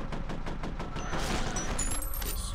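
Rapid gunfire from the PC shooter F.E.A.R., a steady burst of repeated shots for a few seconds with dense, continuous loudness and no talking.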